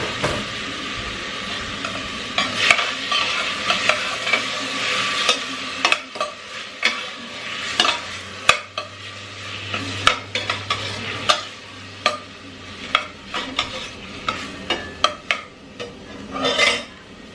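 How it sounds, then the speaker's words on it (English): Tomato sautés in a pan with onion that has turned translucent, a low sizzle under repeated scraping and clacking of a utensil stirring against the pan, close and irregular, with no talking. "We'll saute that for a little bit."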